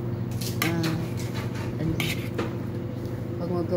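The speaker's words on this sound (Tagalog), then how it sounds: "Mix natin siya ng gusto para pantay" Utensils clink against a bowl while crab salad with shredded white or green cabbage is tossed, giving a series of bright metallic taps and scrapes with a soft background hum.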